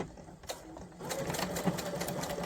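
A sewing machine stitches across a T-shirt drawstring bag, a soft start followed by a continuous, close, buzzing run from about one second on that stays steady to the end.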